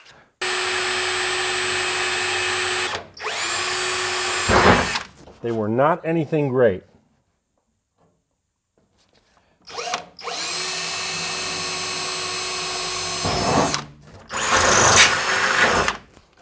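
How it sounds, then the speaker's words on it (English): Power drill boring holes through the metal body of a WW2 Willys Jeep (G503) under restoration, in two long, loud, steady whining runs separated by a quiet gap. Someone talks briefly between the runs. "Got a drill bit."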